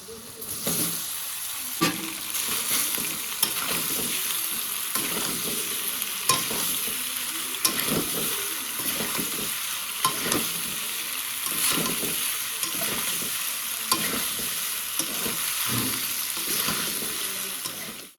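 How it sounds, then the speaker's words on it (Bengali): Boiled pasta stirred through a spiced mixture in a frying pan, with a steady sizzle and repeated scraping strokes of a spoon at a close, even level for the whole stretch. "সমস্ত কিছু ভালোভাবে কষানো হয়ে গেছে এখন সেদ্ধ করা পাস্তা দিয়ে দেবো"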